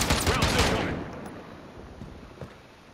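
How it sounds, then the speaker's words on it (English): Gunfire in Call of Duty: Modern Warfare, a dense burst of rapid shots up front that fades into a rumbling tail, with a lone faint shot later. "I have no idea where the fuck they're shooting from."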